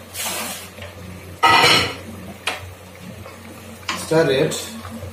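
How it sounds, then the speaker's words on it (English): Gram pulse cutlets being stirred gently in gravy in a pan, with a few soft scraping bursts of the spoon against the pan under a steady low simmer, and a person talking between the strokes. "And then we have to stir it"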